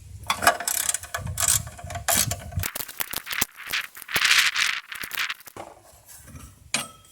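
Ratchet wrench clicking in quick bursts while loosening 10mm bolts on a Generac pressure washer, close and sharp with brief pauses and metallic rattles between strokes.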